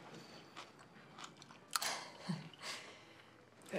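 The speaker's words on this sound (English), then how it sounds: "I was chewing it." Chewing on chewy food at a shared meal, with several soft, moist crunching bites spread irregularly over a few seconds at close range, no talking.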